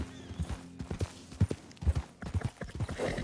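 Horse hooves clip-clop in the video game Red Dead Redemption 2, a steady, uneven series of close, moderately loud hoofbeats with no talking.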